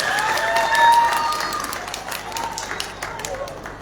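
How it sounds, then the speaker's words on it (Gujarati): Crowd applause at a political rally for a municipal election, steady clapping from many people that swells and then gradually thins, with a voice heard over it. "બધા તાળીઓ તો પાડો, એમાં ક્યાં પૈસા દેવા છે."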